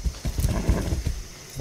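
Hooves pound in a quick, uneven rhythm as a horse gallops on hard ground in the video game Far Cry 6, close and moderately loud, with no talking.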